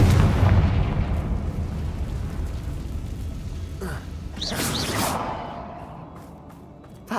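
A Confringo blasting spell from Hogwarts Legacy goes off in a loud burst, followed by a sharp crackling flare and a fading rumble, heard alone without speech.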